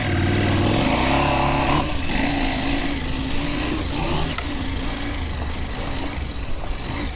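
A KTM 790 Adventure R motorcycle with traction control switched off revs hard through a sandy off-road section. The engine note is loud and close, climbing early, then holding a gritty, rough drone that continues until the end.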